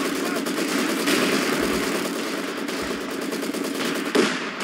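Machine guns in the Company of Heroes 2 video game rattle in continuous rapid bursts, steady and moderately loud, under background battle noise throughout.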